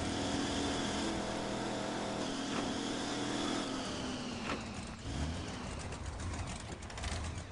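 A Chevy engine idling steadily at high speed, a continuous close mechanical hum with low harmonic drone and some rattling, running alone for the whole stretch.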